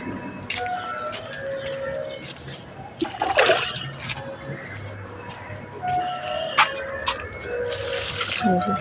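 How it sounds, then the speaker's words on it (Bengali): Plants being watered, a stream of water pouring and splashing onto garden soil, fairly close and continuous with gurgling bursts, while someone talks over it. "গাছে জল দিচ্ছি"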